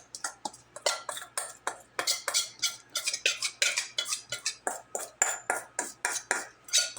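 Cornbread batter is spooned into an oiled glass baking dish, a quick steady series of sharp clinks and scrapes of metal spoon on glass, close and fairly quiet, about twenty strokes in rhythm.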